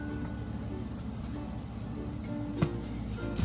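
Onions being chopped into pieces with a knife on a board for a home tea remedy; only a couple of sharp strikes stand out over a steady low background hum.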